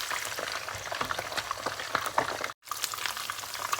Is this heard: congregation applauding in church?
no